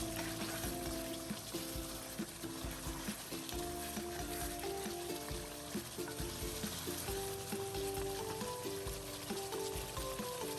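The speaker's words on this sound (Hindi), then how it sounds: "चम्मच हिलाते हुए भून लेंगे। ताकि अच्छी तरह से मसाले मिक्स हो जाएं।" Meat frying with spices in a pot while a spoon stirs it, for bhuna gosht, a steady sizzle running throughout with scattered scraping and clinking accents, close and alone with no talking.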